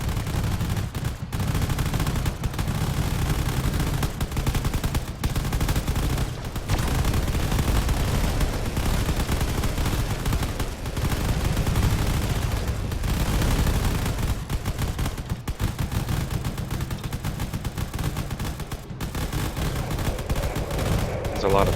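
Dense, continuous barrage of cannon fire in a desert drone-warfare video game battle, rapid overlapping bursts and booms filling the whole stretch at a loud, sustained level, with occasional brief dips between volleys.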